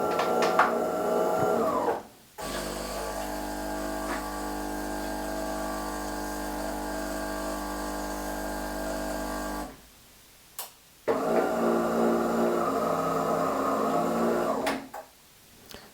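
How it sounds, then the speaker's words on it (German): A coffee machine's steady whirring hum runs for several seconds and cuts off as it shuts down, then a shorter burst of buzzing starts and stops abruptly. "Kaffeemaschine hat sich ausgeschaltet"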